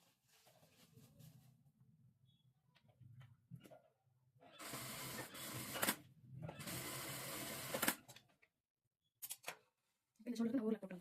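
A sewing machine double-stitches the shoulder seam of an umbrella dress made from a saree in two quick, rattling bursts of rapid stitching, after a stretch of quiet talking and fabric handling.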